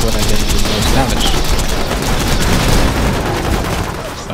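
Turrets firing in Borderlands, a steady stream of rapid gunshots and rattling bursts throughout, loud and continuous with game noise and a voice underneath.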